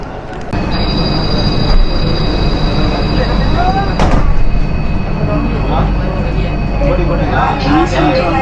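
A Singapore MRT train rumbles along with a steady low roar, sharp clacks and metallic wheel squeals, and a high whine running through the cabin.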